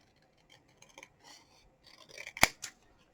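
Scissors cut paper while a Christmas cracker gift box is trimmed, with soft rasping snips that build to one sharp, loud close snip and a smaller final cut, then quiet.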